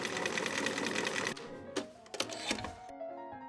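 A sewing machine stitches in a fast, loud, rapid-fire whir, then stops abruptly, leaving a few short mechanical clicks and clunks.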